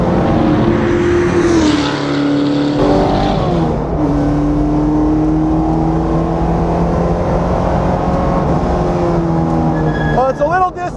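A championship-winning 2002 Mustang Cobra Grand Am race car engine drones loud and close on track, holding steady tones that rise and fall with revs and shifts throughout, with a brief burst of sharper noise near the end.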